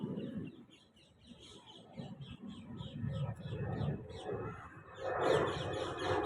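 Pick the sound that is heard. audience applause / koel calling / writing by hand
koel calling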